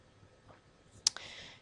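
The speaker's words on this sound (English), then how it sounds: "Just going to click on my Firefox browser and wait for that to load." A single sharp computer mouse click opening the Firefox browser in a quiet room, with a second softer tick just after it.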